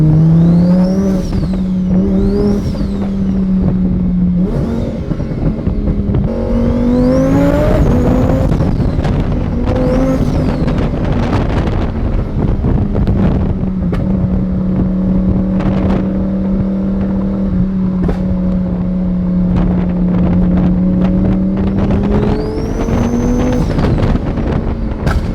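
A 1300hp twin-turbo Lamborghini drives hard at speed, its engine roaring loud and close with rising and falling revs between gear changes, and heavy wind and road noise throughout.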